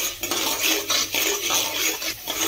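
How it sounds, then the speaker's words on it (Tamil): Ingredients fry in a pan and are stirred for a Tamil side dish, giving a close, steady sizzling hiss with soft scrapes and clinks from the stirring, and nobody speaks. "இப்ப இந்த நல்லா வறுத்துட்டு இருக்கு"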